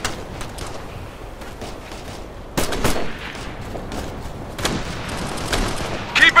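A firefight in the video game Of Red River, with rapid bursts of rifle and machine-gun fire cracking out in clusters, some distant and some sharper and closer, against a constant background rumble.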